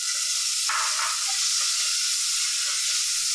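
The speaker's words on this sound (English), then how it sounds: "Moving on, we're going to throw in the onions." Onions dropped into a hot pan of coconut oil burst into a loud, bright sizzle that stays steady and close for several seconds.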